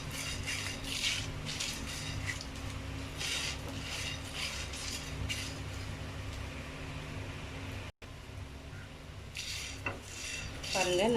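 Fennel seeds, a small piece of cinnamon and chillies dry-frying in a pan, with soft scraping and rubbing of a spoon against the pan over a constant low background hum, and no voices.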